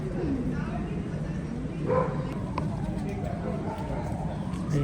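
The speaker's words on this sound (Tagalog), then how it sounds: "Ayun yung mga aso." Dogs bark on a busy street in old Tbilisi, with yips and bow-wows rising over a steady crowd murmur and nearby chatter.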